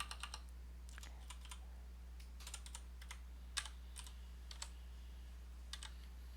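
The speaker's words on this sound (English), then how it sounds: "it's actually faster if we just type it" Rapid typing on a computer keyboard while coding JavaScript in the emacs editor, irregular bursts of crisp key clicks close to the mic over a steady low electrical hum.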